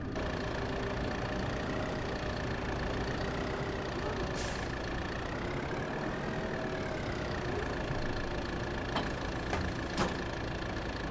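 A tractor engine idles in Farming Simulator 22, hitched to a baler. It gives a steady, moderately loud mechanical drone with a slight wavering hum and a few faint clicks, and no voices.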